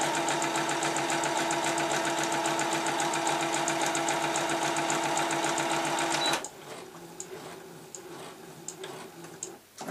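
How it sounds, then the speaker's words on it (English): Sewing machine running a zigzag stitch across fabric on a quirky chicken soft toy, a steady rapid mechanical whirring and ticking that runs continuously for about six seconds, then stops, leaving quiet handling noises. "I'm just going to sew across the top of those so she can lift her wings up. And I'm going to use a zigzag stitch"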